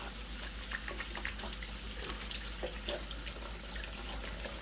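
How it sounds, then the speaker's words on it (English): Steady running water from a kitchen tap during handwashing while cooking a Western-style omelet, a continuous hissing splash that stays even throughout with no voices. "always gotta make sure wash your hands off"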